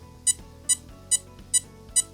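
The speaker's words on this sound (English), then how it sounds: "Let's count the beeps." Five short, high electronic beeps from an RC car's motor speed controller, signalling a 5S battery, evenly spaced about half a second apart, over a low steady hum.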